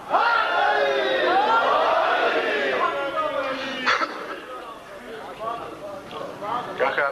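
A large crowd at a Shia religious majlis gathering chants the slogan Nara-e-Haidari in loud, dense unison, voices rising and falling together in sustained waves.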